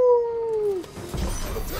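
Torgal, a dog in the video game Final Fantasy XVI, lets out a single loud, drawn-out howl that slides downward and fades, followed by a brief low rumble of game ambience.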